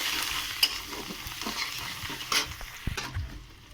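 Cardamom, green chili and garlic sizzle and fry in a pan, a steady crackling hiss with occasional stirring clatters and sharper spits, close and moderately loud with no talking.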